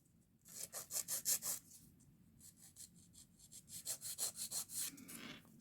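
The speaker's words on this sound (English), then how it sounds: "So I'm choosing to finish this hand filing" A hand file rubs back and forth across acrylic nails in quick, soft rasping strokes. Two bursts of rhythmic scraping are separated by a short pause. The sound is faint and close, with no voice over it.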